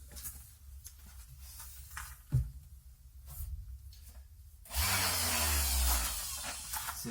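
An electric sander working the corners of a wooden panel for a built-in wardrobe starts up after scattered knocks and handling sounds, then runs as a loud, steady, close whirring grind to the end.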